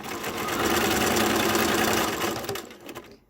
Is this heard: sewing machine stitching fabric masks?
yes